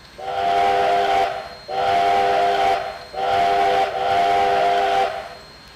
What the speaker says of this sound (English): And then here's the whistle.